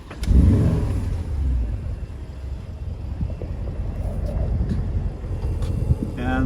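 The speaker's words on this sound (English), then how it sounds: "the engine has a really lovely V8 burble and a nice bark when you're on it" A 2013 Porsche Cayenne GTS V8 catches with a loud burst as it starts, then settles into a rumbling idle with light revs, and a voice is heard briefly over it.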